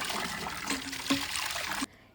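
Clear water trickling and splashing steadily in a small stream in Slovenia, close and continuous before cutting off abruptly near the end.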